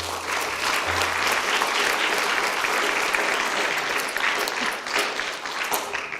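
Sustained audience applause fills a school board of education meeting room, steady clapping from a sizable crowd lasting several seconds without pause.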